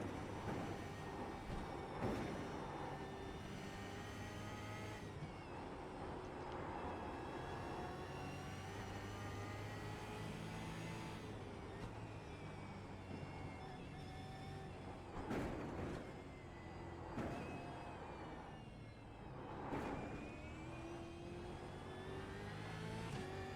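Supercars race at Mount Panorama in iRacing, engines revving and climbing through gear changes with repeated sharp acceleration bursts, steady and continuous with no talking.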